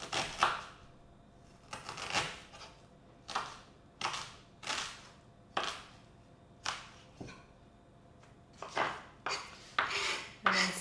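A knife chops an onion into small squares for tomato pasta, striking a cutting board in a steady series of crisp, close taps with brief pauses, and a quicker cluster near the end, with no talking.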